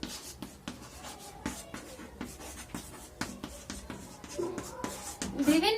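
Hand-writing of a definition, likely pen or chalk on a surface during a Hindi lesson on international politics, with a series of quick scratchy strokes and taps, some faint background sounds.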